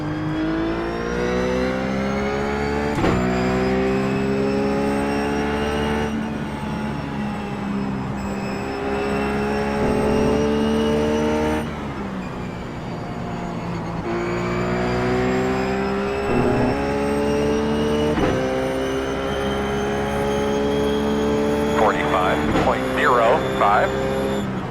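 Ruf GT3 race car engine in iRacing at Watkins Glen, a loud, close, whining engine note that climbs through the revs and drops sharply at each gear change, repeated several times, with someone talking over it.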